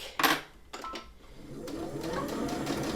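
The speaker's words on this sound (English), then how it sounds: "I'm just going to sew all the way around" A free-arm sewing machine stitches around the edge of fabric for a lined drawstring bag, with a few sharp clicks and knocks at first, then a steady mechanical whirr building and running to the end.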